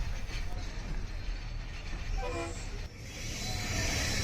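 Cuban train pulling away past a freight station: low continuous rolling rumble and rail noise, with a brief tonal horn-like sound in the middle and the rumble rising slightly toward the end.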